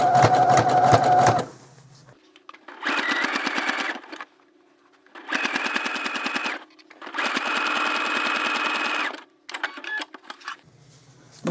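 A sewing machine stitches an up-cycled placemat into a crossbody bag. It runs in four loud, rapid bursts with short quiet pauses between them and sits close by.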